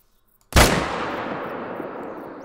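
A single loud hunting rifle shot fired at a deer in the hunting game Call of the Wild, an abrupt sharp crack after silence, then a long rolling echo that slowly fades.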